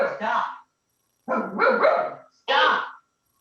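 A puppy barks close by in three separate bursts with short gaps between them, each bark sharp and loud against an otherwise quiet room.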